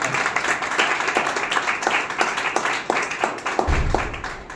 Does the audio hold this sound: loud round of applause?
yes